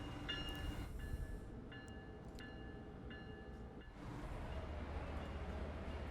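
Train Sim World 2 train backing slowly along a platform on a Boston winter service, a steady low rumble with a few squealing tonal whines overhead, continuous and close, no voices.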